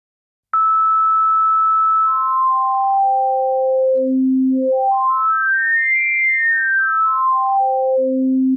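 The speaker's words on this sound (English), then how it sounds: "The wavetable oscillator then lets you scan through all of these sounds." Pure wavetable synthesizer tones from a Novation Circuit Tracks stepping downward in pitch, then sweeping up and back down in a smooth arc of short steps, loud and alone.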